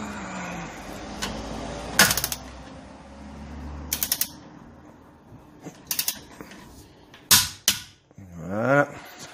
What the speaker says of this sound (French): on peut serrer au couple.